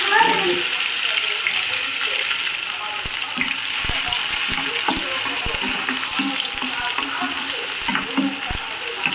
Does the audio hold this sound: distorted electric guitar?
no